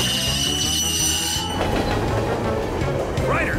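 A cartoon train braking on icy tracks: a loud, steady mechanical rumble of wheels shifts midway into a rougher grinding, and a short rising squeal of the wheels follows near the end.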